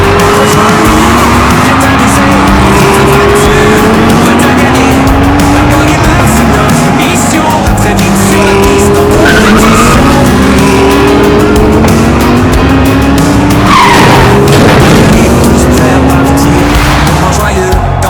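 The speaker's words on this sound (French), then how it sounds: "Oh, dérapage de la NASCAR qui profite d'Aloni pour la dépasser." Small 1:64 scale NASCAR model car racing down a gravity track, rolling and rattling continuously with a brief skid near the end, while an excited commentator talks over it throughout.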